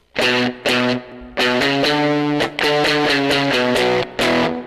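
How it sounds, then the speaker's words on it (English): An electric guitar with heavy gain and a large hall reverb plays a choppy, riff-like run of distorted chords and notes, cutting in and out in short loud bursts with a lingering wash between them. "now I'm going to add some large hall reverb in"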